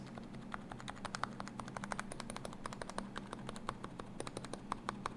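Keys on a modded mechanical keyboard called the Heavy Grail are typed rapidly in continuous bursts of crisp close clicks during a sound test, with a steady low hum beneath and no talking.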